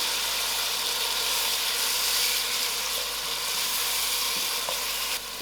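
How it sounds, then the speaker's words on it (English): Tomatoes added to a pan for brinjal dhal sizzle in a steady, close, continuous frying hiss with faint stirring, with no talk. "So now I'm adding in my tomatoes to cook."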